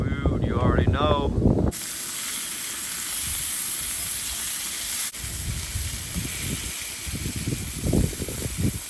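Sausages sizzling in a pan while cooking outdoors beside a stock Sprinter van camper in Michigan's Upper Peninsula, a steady close hiss with occasional louder crackles after a brief voice at the start.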